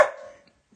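A single short dog bark or yip rings out close by indoors, then fades quickly into quiet, with no talking.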